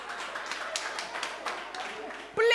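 An audience claps for children at a special needs school workshop in Entebbe, a dense, fairly close patter of many hands lasting a couple of seconds before a voice speaks over the end.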